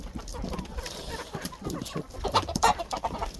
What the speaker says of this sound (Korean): 닭은 흙모욕을 하거든